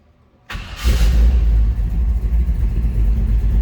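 A 1963 Chevrolet Impala two-door hardtop cranks briefly and catches, then settles into a loud, deep, rumbling idle with a slightly uneven throb, close and with no talk over it.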